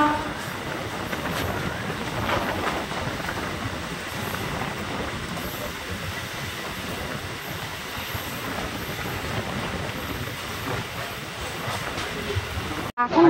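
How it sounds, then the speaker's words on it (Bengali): A Suri–Sealdah MEMU express runs into Durgapur, its steady loud rumble and rattle of wheels on rails continuing unbroken for the whole stretch, with a faint squeal now and then. "দেখতে দেখতে আমাদের ট্রেন এখন দুর্গাপুরে ঢুকছে।"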